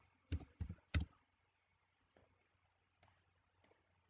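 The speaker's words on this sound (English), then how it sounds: "I would be typing the names of all the students" A computer keyboard clicks in a quick burst of three or four sharp keystrokes, followed by a few fainter, sparse taps in a quiet room, no talking.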